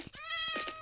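A cat meows in the Minecraft video game, a single drawn-out, faint mew with a rising then falling tone, heard alone.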